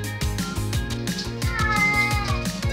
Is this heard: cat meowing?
yes